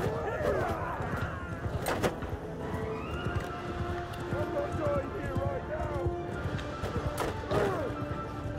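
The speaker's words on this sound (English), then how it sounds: "Horse cavalry." Horses whinny and hooves clatter amid crashing impacts in a busy cavalry battle scene in the video game Mount and Blade Bannerlord, with a voice talking over the commotion.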